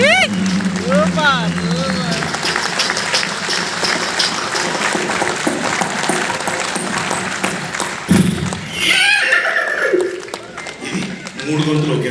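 A voice imitates a galloping horse with quick, rhythmic clopping and clicking noises, loud and close, followed by a brief spoken bit.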